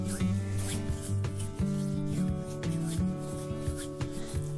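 Coconut and vanilla lotion being rubbed into skin, a steady close-up swishing friction that keeps going without a break over faint background music.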